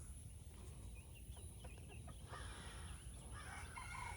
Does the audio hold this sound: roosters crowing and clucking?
yes